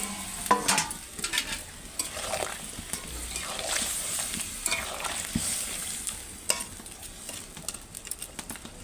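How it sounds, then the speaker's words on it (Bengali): Snakehead fish goes into a boiling green mango gravy, with steady bubbling and sizzling, soft splashes and a few sharp clinks of a utensil against the pot, close and moderately quiet, with no voices. "দেখো বন্ধুরা ঝোলটা আমার ফুটে গেছে মাছগুলো সাজিয়ে দেবো"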